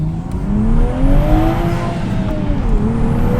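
A Toyota A91 Supra fitted with an XFORCE exhaust accelerates hard, its loud close engine note rising in pitch through the revs, dipping briefly at a gear change and then climbing again.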